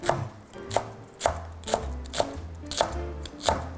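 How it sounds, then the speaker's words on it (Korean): A knife slicing green onion on a cutting board, about eight evenly spaced crisp chops in a steady rhythm, close and alone. "굵지 않은 거는 그냥 송송 써시면 됩니다"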